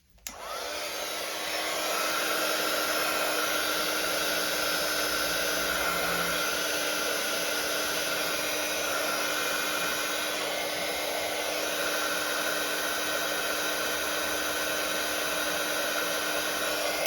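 A craft heat tool blows hot air onto Stampin' Up! card stock with a steady, loud, even whir that runs alone from start to finish without a break.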